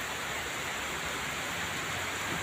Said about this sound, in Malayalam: റോഡിലൂടെ വാഹനങ്ങളൊക്കെ പോകുന്നുണ്ട് മഴ ചൂടി ഒച്ച കൂടി